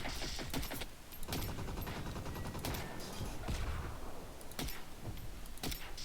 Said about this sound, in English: Hit him with a couple shock rounds here first.